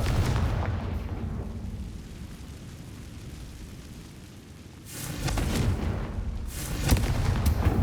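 A Confringo blasting spell in Hogwarts Legacy erupts as a booming explosion with a rumbling low tail, followed by another loud burst a few seconds later, standing alone without talk.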